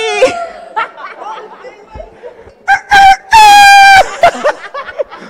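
A man loudly imitates a rooster's crow with a long, strained cry on the Panamanian TV show Calle 7, amid laughter and chatter from others nearby.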